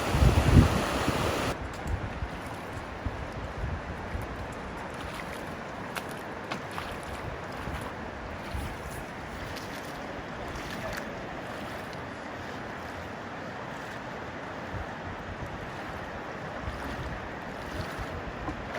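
Rapid river water rushes through the narrow Zion Narrows canyon as a continuous broadband roar. It is fairly close and steady, with a brief louder splash at the start and no voices.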